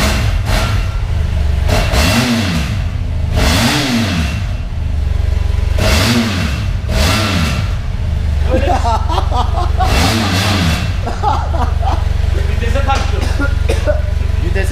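A BMW F800GS motorcycle engine runs indoors inside a house, loud and close. It revs up and drops back again and again in sweeping bursts while people talk and shout over it.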